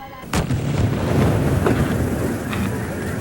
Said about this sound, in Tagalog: Gaya na lamang ng pasabugin ang paputok na Aldab.